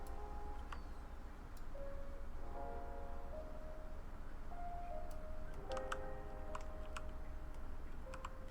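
A train passes in the zoo-building video game Planet Zoo: faint, steady rolling rumble with soft tonal horn-like notes and scattered ticking clicks over several seconds, no talking.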